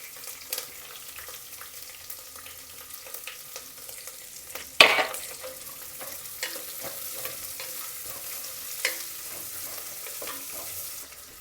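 Onion and curry leaves fry in a pan with peanut oil and green chillies for akki uppittu, a steady soft sizzle with stirring scrapes and one sharp clatter near the middle, close and alone.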